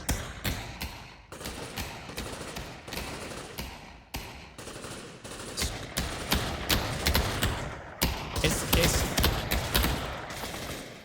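Desert Eagle pistol fire rattles through a Pavlov VR competitive match, with dense, rapid volleys of overlapping shots and thuds continuing throughout, loud and close.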